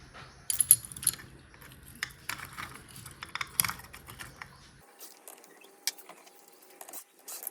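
Small metal parts clink and tap while a part is bolted into a Bajaj Pulsar 200 engine during assembly, sparse close knocks and light rattles with quiet gaps.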